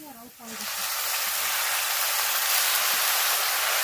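Makoy greens hit a hot pan of fried onion and chili and burst into a loud, steady sizzle that holds continuously after a brief moment of quiet at the start.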